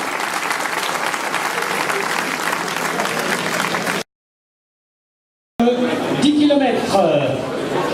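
Audience applause at a half-marathon and race awards ceremony, steady dense clapping for about four seconds, then a short silent gap before clapping resumes with voices mixed in.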